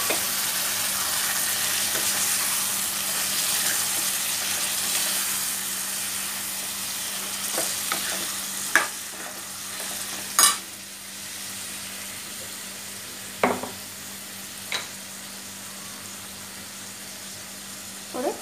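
Tomatoes frying in a pan for tomato curry, a steady soft sizzle with a few sharp clinks and scrapes of stirring scattered through the later part, with no talking.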